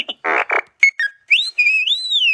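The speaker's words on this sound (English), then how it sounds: "left trigger and blue button does the wolf whistle every time" A few short noisy bursts and blips, then a rising-and-falling two-part whistle, bright and close, the classic catcall whistle effect.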